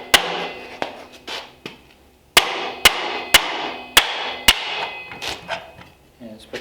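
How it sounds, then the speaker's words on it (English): A hammer strikes a stuck brake drum on a 1947 Ford in a series of sharp metallic blows, about a dozen hits in an uneven rhythm, close and loud with short ringing decays. "if you just keep hammering and working it"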